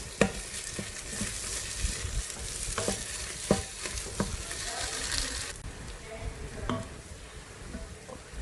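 Fish fries in plenty of oil for mohinga, a continuous close sizzle with repeated clicks and scrapes of a utensil stirring the pan, easing slightly in the later seconds.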